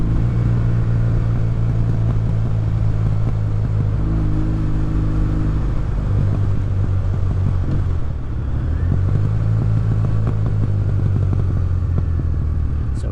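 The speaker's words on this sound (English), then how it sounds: "It does still have a lot of popping on decel. The backfiring on decel from the valve." A Kawasaki motorcycle engine with its clean air system still fitted runs loud and close, idling and revving in a continuous rumble with popping and backfiring on deceleration caused by the valve.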